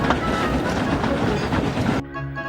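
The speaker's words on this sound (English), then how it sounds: "I have to take the breakdown train to an accident site." Train rumble and rolling wheel noise from a breakdown train in an animated children's show, loud and steady for about two seconds before dropping away to quieter tonal music.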